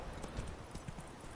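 Hooves of Roach, the horse in The Witcher 3: Wild Hunt, clip-clop in a quick, steady rhythm, close and continuous over a dense background.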